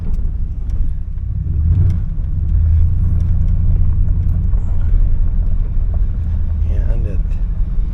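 The engine of a 1992 Chevy pickup truck runs at a steady idle, a low rumbling drone close by. A person talks over it.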